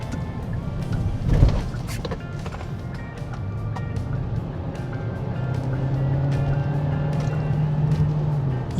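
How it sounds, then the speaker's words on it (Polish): A Hyundai Santa Fe 1.6 T-GDI Hybrid AWD switches to its petrol engine and accelerates to overtake a truck on a national road, the engine drone rising steadily in pitch and loudness with road and wind noise inside the cabin. "już jedziemy na benzynie. No i teraz zobaczcie, tak, mam do wyprzedzenia ciężarówkę"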